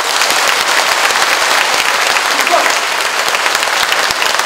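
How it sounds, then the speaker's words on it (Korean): An audience at a Korean book launch event applauds loudly with dense, sustained clapping throughout, heard alone without talking. "진정한 용기를 보여주신 한초령 장관님께 다시 한번 큰 박수 부탁드리도록 하겠습니다."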